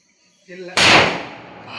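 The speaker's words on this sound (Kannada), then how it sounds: "ಎಷ್ಟೇ ಇದ್ದಿದ್ದು ಎಂತ ಅವಲಕ್ಕಿ ಪಟಾಕಿ?" Small avalakki firecrackers burst outdoors with a sharp close crack followed by a fading crackle and hiss, just after a voice speaks briefly.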